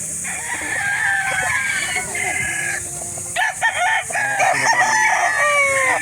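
A sixteen-month-old gamecock bullstag at a poultry market in Calauan, Laguna crows in long, ringing calls, loud and close, while people talk nearby throughout.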